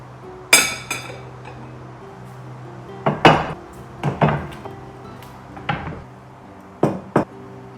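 A double-shade bowl from Home Centre handled in a home kitchen, clinking sharply against glass and ceramic dishes in a run of separate knocks, close and clear with no talk.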